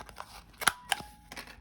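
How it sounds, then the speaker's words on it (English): Two sharp, crisp clicks of a small corner rounder punch trimming the corners of a mini art card, heard close up in a quiet room. "I can round the corners with this device"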